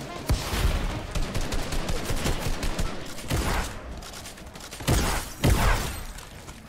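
Video game shooter with a combat shotgun, a run of sharp gunshots and heavy blasts amid scuffling action noise, close and punchy with a few louder hits near the end.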